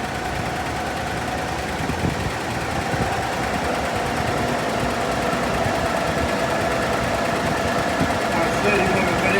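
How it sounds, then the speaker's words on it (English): A 1954 Chevrolet engine runs steadily with a continuous mechanical whine from its transmission pump, which is low on fluid; the sound stays loud and constant throughout with no talk over it. "you can hear the pump whining, so that means add some fluid"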